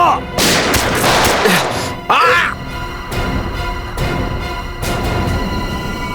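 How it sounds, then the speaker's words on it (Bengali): Gunfire in a Bengali-dubbed CID crime drama: several loud, sharp broadband bursts spaced a second or two apart, with a harsh cracking shot near the two-second mark, over a busy background score. "সিআইডি অফিসারকে গুলি করে দিলি?"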